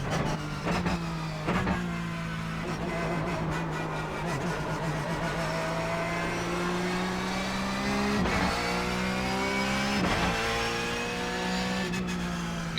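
Porsche 911 GT3 Cup race car in the iRacing simulator, engine loud and steady from the cockpit, pitch climbing then dropping sharply at several upshifts with a brief trill on each change, tire and road noise underneath.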